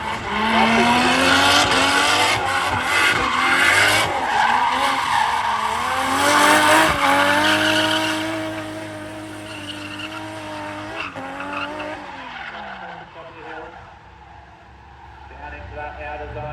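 A drift car skids around a roundabout at a drift series event with loud, sustained tire squeal and revving engine, the screech rising and falling through the turn and fading toward the end, while a commentator talks over it.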